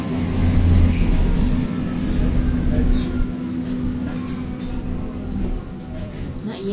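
A driver-operated train runs in Berlin with a steady low rumble. The noise eases partway through, and a thin high squeal appears near the end. Voices can be heard talking over it.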